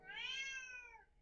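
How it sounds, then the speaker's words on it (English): A single cat meows once, a clear rising-and-falling call lasting about a second, fairly close in an otherwise quiet room. "That's my cat, actually."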